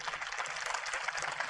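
An audience claps together at a spiritual talk, a brief dense patter of many hands at a moderate, even level with no speech over it.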